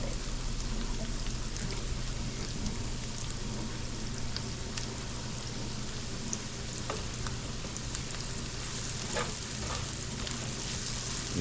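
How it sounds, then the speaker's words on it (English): Onion sautés in a pan with a dense, unbroken sizzle, close and steady throughout with faint crackles. "Let that onion saute."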